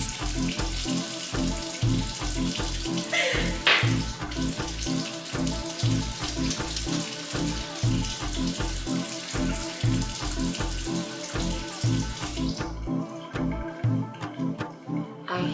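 A bathroom sink faucet runs steadily for the whole stretch, a constant rushing hiss of water with a rhythmic knocking beneath it, close and fairly loud, with no talking.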